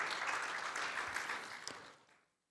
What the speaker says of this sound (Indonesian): Yang setuju kemauan, mari beri tepuk tangan.